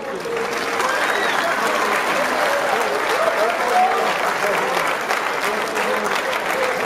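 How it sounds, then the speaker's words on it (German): A crowd at an amateur boxing bout applauds the fighters in a steady, dense wash of clapping that lasts throughout. Cheers and voices mix into it. "Ich darf Sie nochmal bitten für einen Applaus für meine Fighter hier."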